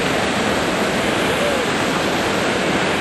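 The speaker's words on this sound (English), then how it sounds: "They like to hang out underneath the waterfall" A waterfall roars steadily on a river during a Class 4 rafting run, a loud, unbroken wash of white noise that fills the whole span with no pauses.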